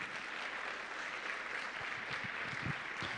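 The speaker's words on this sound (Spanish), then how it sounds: "Una vez más vamos a dar fuertes aplausos" A church congregation at a Sunday service applauds a singing group, a faint, continuous patter of many hands clapping together from a distance.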